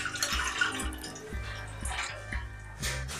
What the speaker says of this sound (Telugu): దీంట్లో చల్లనీళ్ళు పోయాలి ఇప్పుడు పైనుంచి,